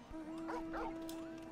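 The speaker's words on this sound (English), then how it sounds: "I've got a dog. I've got a flying dog." A flying dog pet in the video game Final Fantasy XIV gives a couple of short yips and whimpering barks over a steady game tone and soft background music.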